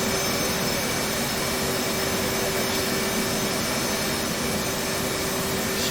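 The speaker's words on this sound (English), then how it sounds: "so left engine's up and running there" A virtual F/A-18 Hornet's left jet engine idling in DCS World, giving a steady, loud broadband roar with a constant hum and high whine that holds unchanged throughout, with no voices.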